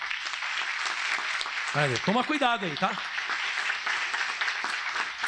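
A church congregation applauds steadily in a broad wash of clapping, while someone speaks briefly over it partway through.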